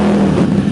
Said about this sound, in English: 350Z with open headers.